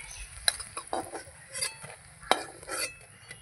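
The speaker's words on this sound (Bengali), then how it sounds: "এই যে এইভাবে লাল লাল করে ভেজে নিয়ে তুলে নিচ্ছি" Food fries in a pan until reddish, then is lifted out with a utensil. Soft sizzling runs under several sharp scrapes and clinks of metal against the pan, close and fairly quiet.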